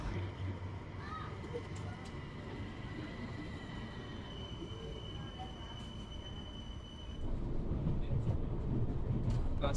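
Steady rumble of a crowded Sunday metro train in motion in Mauritius, with rolling wheel noise and faint squeals, growing louder near the end while voices murmur faintly.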